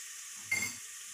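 Turmeric powder hits a hot pan for a chickpea curry, setting off a brief sizzling hiss that swells for a moment, then settles back to a soft background crackle.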